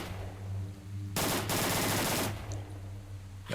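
Automatic gunfire from a weapon in the video game S.T.A.L.K.E.R. Shadow of Chernobyl, a single loud burst of rapid shots lasting about a second over a steady low game hum, followed by a faint click.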